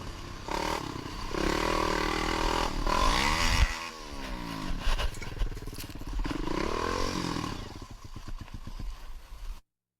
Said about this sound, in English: uploaded a GoPro video of himself riding his ATV on an unnamed trail